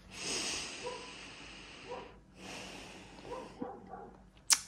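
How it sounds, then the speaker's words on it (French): An English setter makes short, snorting barks and huffs, close by but soft, spread over a few seconds with pauses between them and one sharper burst near the end. "si vous entendez mon chien aboyer en permanence"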